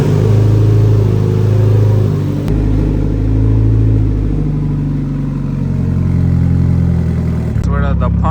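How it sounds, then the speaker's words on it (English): A Mitsubishi Evo X with a big turbo runs on E85 fuel, its engine giving a loud, close, steady low rumble with a throbbing pulse that cuts off sharply near the end. "Car is running really nice."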